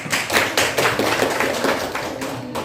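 A classroom of students gives a short burst of applause, with a dense spatter of hand claps that stays fairly loud and steady for a couple of seconds, with no talking.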